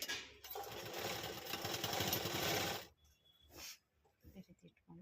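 A sewing machine runs a folding stitch on a nightie hem, a loud fast rattling buzz for nearly three seconds that then stops, followed by quieter rustling and short bursts.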